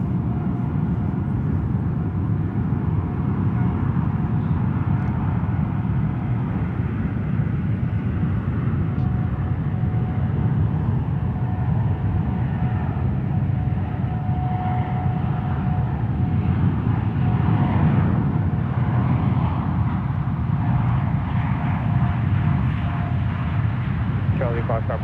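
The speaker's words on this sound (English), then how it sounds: "Now departing on 28 left, United 115 Heavy, headed to Papeete in Tahiti. 77-9 Dreamliner." A United Boeing 787-9 Dreamliner takes off from San Francisco International Airport runway 28 left, a steady, heavy jet roar and low rumble held at constant loudness throughout, with no pauses.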